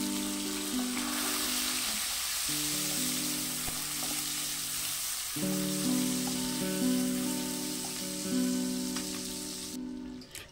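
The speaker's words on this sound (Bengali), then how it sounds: "এখন দিয়ে দেব একটি মিডিয়াম সাইজের টমেটো কুচি" Chopped medium-sized tomato hits hot oil with ginger paste and cumin for a Bengali vegetable dal, giving a steady loud sizzle that stays close and constant throughout.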